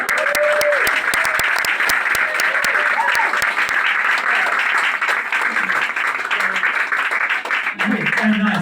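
Audience applause after a comedy routine at an open mic night, dense continuous clapping filling the room throughout, with voices speaking over it near the end.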